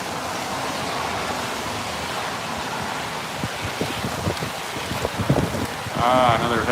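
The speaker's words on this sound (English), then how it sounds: "Another heavy wind." A steady, loud rush of monsoon storm wind in Arizona buffets throughout, with rattling gusts building toward the end.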